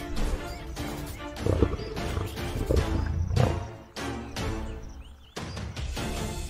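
Lions roar repeatedly in a clash with buffalo at a shared waterhole, a series of deep, rough bursts with short gaps, loud and close, and no talking over them.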